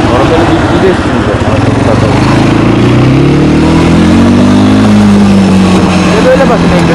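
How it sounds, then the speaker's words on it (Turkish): An ATV engine revs loudly through its exhaust at night, pitch climbing and then falling across a steady, continuous roar that stays close and dominant, with no talk over it. "böyle bakın egzoz"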